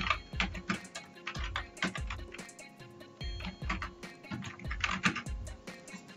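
Rapid typing on a computer keyboard, a steady run of close, crisp key clicks with occasional heavier strokes, continuing without pause and with no voices over it.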